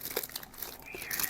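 Plastic wrapping is peeled open from a BMW i8 electric AC compressor during an unboxing, giving brief close crinkles and crackles at a quiet level.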